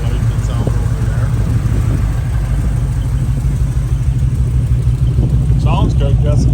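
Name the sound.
car engine exhaust rumble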